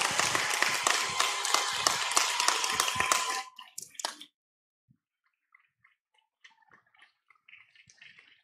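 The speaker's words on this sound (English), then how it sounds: "Please give another round of applause." Audience applause at a college coronation ceremony for Mister and Miss Tougaloo, a dense burst of clapping that stops abruptly after about three seconds, leaving a few faint scattered claps and room noise.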